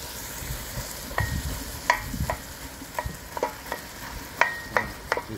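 A kilo of minced meat sizzles and fries in a pan on a rocket stove, broken up with repeated scraping, clinking strokes against a steady close frying hiss.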